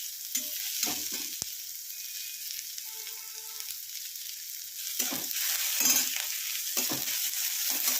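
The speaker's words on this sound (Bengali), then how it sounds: "পেঁয়াজটাকে ভালো করে ভেজে নিয়ে ফেরত আসছি।" Onions fry with fenugreek seeds in a hot pan for a Bengali pumpkin curry, giving a steady close sizzle broken by several bursts of spoon stirring and scraping.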